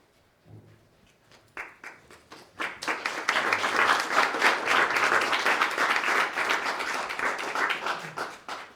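Audience applause at a conference session, starting with a few scattered claps that swell into sustained, dense clapping from a sizable crowd, holding steady before tapering slightly at the end.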